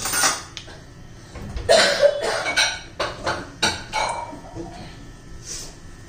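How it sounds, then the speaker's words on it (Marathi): Mustard seeds sputter and pop in hot oil in a kadhai, giving a series of sharp, bright crackles clustered together with irregular snaps that thin out toward the end, close and distinct. "छान अशी मोहरी तडतडून द्यायची."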